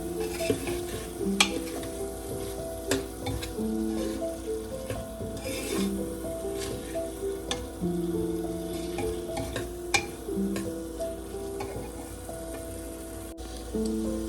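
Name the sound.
potatoes frying and being stirred in tempering for dal khichdi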